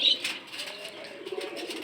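Pigeons on a farm where birds have been falling sick and dying, heard as a soft, low cooing under a faint background hiss, close and brief, with no talking.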